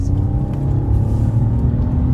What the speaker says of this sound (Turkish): Şöyle birazcık gaza basacağım.